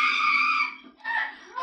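A woman in a horror film lets out a sustained, piercing high scream, breaks off briefly, then screams again, loud and close.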